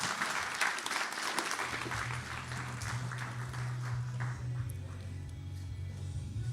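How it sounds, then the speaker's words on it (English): An audience applauds steadily at an energy policy event, a dense, even wash of many hands clapping for several seconds, with a low hum underneath. "Let's clap it up in those seconds."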